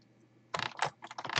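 Quick bursts of keystrokes on a computer keyboard while Java code is typed, close and clear. The typing starts after a brief quiet moment and continues in uneven rapid clusters.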